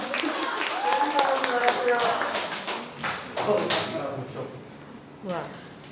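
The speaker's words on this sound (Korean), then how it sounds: "이 가사를 한 번도 틀리지 않고 해주신 이만주 씨께 박수 한번 부탁드립니다" Audience applause at a talk concert on the National Security Act, a dense patter of clapping with someone speaking over it.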